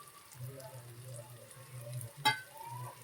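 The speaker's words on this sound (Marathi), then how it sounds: "परतून झाल्यानंतर यामध्ये आपण हे जे मसाले घेतले ते सर्व ऍड करायचे आहेत" Spices frying in hot oil with a pinch of asafoetida for a sprouted moth bean curry, a steady soft sizzle broken by one sharp stir or clatter near the end.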